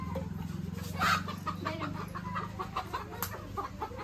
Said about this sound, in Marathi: तर आता सगळी जण कोंबडी धरायली.